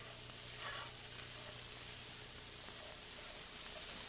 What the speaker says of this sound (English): Mix it together, saute it on low flame.